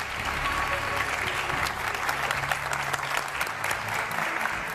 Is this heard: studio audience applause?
yes